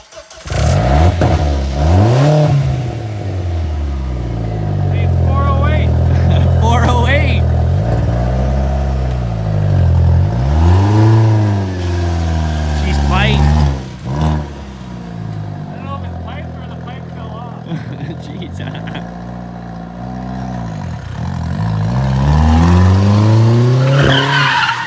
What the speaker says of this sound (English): I'm thinking we do a little race in the VW